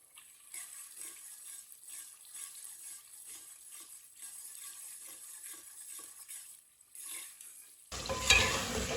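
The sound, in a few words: chicken and pumpkin being stirred and cooked in a pan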